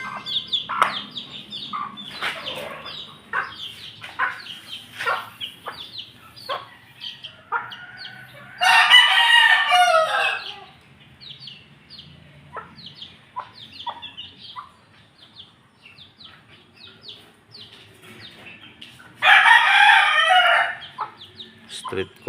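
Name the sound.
chickens clucking and roosters crowing while being fed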